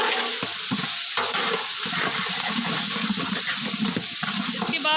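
Chicken fries in garlic-ginger paste in a pan, sizzling loudly and continuously up close, with the wet churning and scraping of stirring running throughout.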